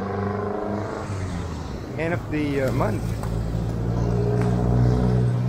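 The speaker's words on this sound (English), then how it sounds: "No, there's traffic." Busy road traffic with cars passing, a continuous loud engine rumble and hum that swells toward the end, with people talking over it.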